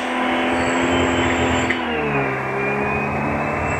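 A car running on a combination of LPG and petrol revs its engine, a steady droning hum whose pitch shifts and climbs partway through as the throttle opens, heard close and continuous.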